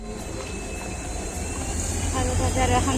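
A train approaches on tracks below a railway footbridge on the way to Barpeta, its rumble and rail clatter steadily growing louder over crowd noise.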